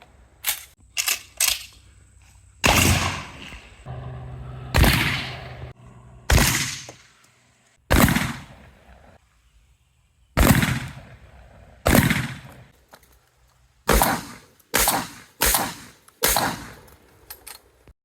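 A Remington 11-87 police trade-in short-barreled shotgun fires about a dozen loud, sharp blasts outdoors. Shots come in quick pairs and triplets as well as singly, each reports with a short decaying tail, and the gaps between them are quiet.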